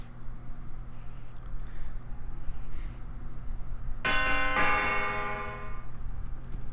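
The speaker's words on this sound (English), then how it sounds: "Ring the doorbell to start the chimes." A doorbell in the JumpStart 3rd Grade game rings out midway, a bright sustained chime with ringing overtones that fades over a couple of seconds after a low background hum.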